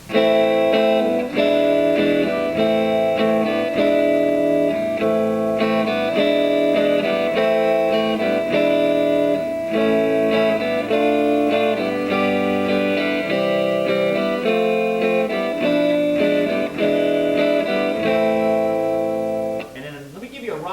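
An electric guitar strums a steady chord progression, each chord ringing for about a beat or two in a continuous, even rhythm.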